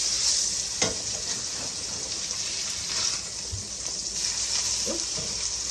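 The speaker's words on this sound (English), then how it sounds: "You can go ahead and flip this on the other side for another, 7 to 10 minutes." Salmon fillet in a pan for garlic cream spinach salmon, frying with a steady close sizzle after being flipped, plus a few brief clinks and scrapes of a utensil.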